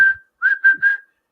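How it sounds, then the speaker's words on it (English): A person whistles into a microphone, producing a clear close tone: one short note, then three quick connected notes slightly rising and falling, loud and clean against silence. "the last thing you ever want to do is whistle into a microphone"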